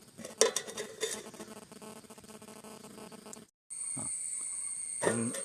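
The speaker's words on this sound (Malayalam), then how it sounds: "ഒരു പാത്രം വെച്ച് നമ്മൾ അത് അടക്കി" A metal pot is set over simmering fish curry to cover it, giving a few sharp clanks of cookware among kitchen clatter, then a steady hiss near the end.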